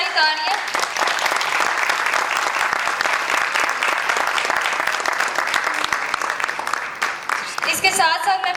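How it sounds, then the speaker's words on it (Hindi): A crowd applauds at a 25th wedding anniversary celebration, a dense, loud, continuous wash of clapping that lasts several seconds, with a voice rising through it near the end. "बहुत सारी तालियां"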